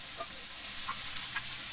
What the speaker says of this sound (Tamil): ஸோ ஒரு பாத்திரத்தில் எண்ணெய் ஊற்றி நறுக்கின வெங்காயம் போட்டுருவோம்.